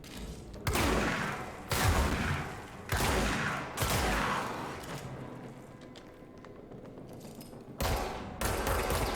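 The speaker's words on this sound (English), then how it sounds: "let's shotgun this guy" Shotgun blasts in the video game Control, about five heavy booming shots at spaced intervals, each followed by a lingering rumbling tail, loud and unaccompanied by talk.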